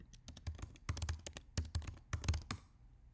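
Quick bursts of typing on a computer keyboard to log in, a dozen or so crisp key clicks in uneven clusters, close and clear with no voices.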